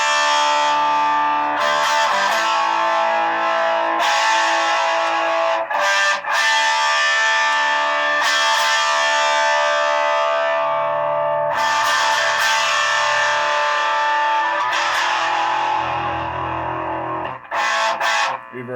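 Tremolo effect on a 1976 Music Man 112 Sixty Five guitar amp running at low voltage, a sustained distorted guitar tone pulsing steadily and loudly through most of the stretch, with brief gaps between strummed chords.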